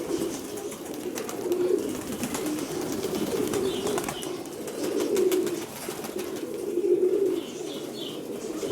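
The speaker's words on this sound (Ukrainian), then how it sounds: "Гоняем голубей із задоволенням." A flock of pigeons coos repeatedly and close by, with soft wing flaps mixed into a steady outdoor background and no talking.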